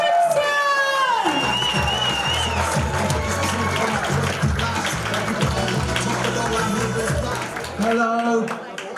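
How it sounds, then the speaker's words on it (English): Comedy club audience at a live standup competition bursting into a loud round of applause with whoops and cheers, clapping sustained for several seconds while voices call out over it. "will you please start the round of applause?"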